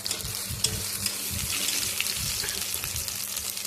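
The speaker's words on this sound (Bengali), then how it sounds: "এবার একটু তেল দিয়ে ডিমটা ভেজে নেব হালকা লাল লাল করে।" An egg fries in oil in a pan, giving a steady close crackling sizzle with light stirring or scraping clicks throughout, no voices over it.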